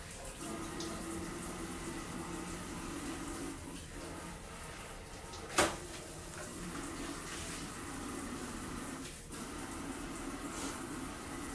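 Warm tap water runs steadily over a glass piece, rinsing off etching cream, a continuous close splashing hiss with one brief sharp clack midway and no talking.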